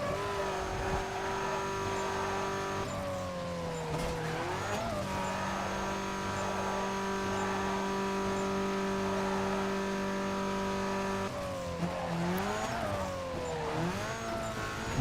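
Front-wheel-drive car in Need for Speed Carbon revving and accelerating, a loud engine whine climbing through gear changes with sweeping pitch shifts and some tire noise in between.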